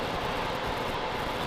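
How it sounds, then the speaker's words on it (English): Water at a rolling boil in a tank, used while preserving a Carcano Moschetto 91/24 rifle, gives off a steady, dense roaring hiss that holds constant and fairly loud. "As you can see, rolling boil."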